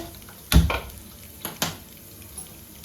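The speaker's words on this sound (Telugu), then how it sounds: "ఇలా నూనె కాగిన తర్వాత తాలింపు గింజలు వేసుకుందాము" Tempering seeds tipped into hot oil for an Andhra-style brinjal karam, giving a couple of short crackling bursts with a utensil clink, then a low steady fry, no talking.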